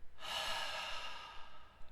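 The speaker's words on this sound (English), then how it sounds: "and a good exhale" One long, slow exhale, close to the ear and breathy, flowing out steadily for over a second and then tapering off into near silence.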